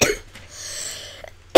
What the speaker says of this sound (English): I have a bad cough right now